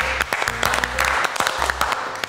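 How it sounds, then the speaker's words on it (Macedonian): A studio audience applauds a guest chef on a cooking show, with dense, loud, close clapping and a low tone underneath. "Пред се голем аплауз за Стефан Јаневски"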